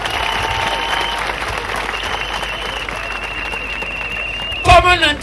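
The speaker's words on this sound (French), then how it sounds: "Applaudissez pour le Seigneur Jésus-Christ." A church congregation at a crusade applauds the Lord Jesus Christ, sustained dense clapping under a droning tone and background voices, ending in a few louder thumps.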